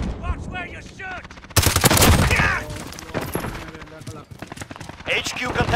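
Rapid automatic gunfire in a shooter video game on the Shoothouse map, loud bursts that dominate the middle of the clip, with players talking before and after the shooting.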